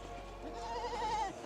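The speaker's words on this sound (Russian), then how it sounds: "Это коза ест змей." A goat bleats once, a short wavering cry rising and falling over roughly a second, fairly near against a quiet outdoor background in Afghanistan.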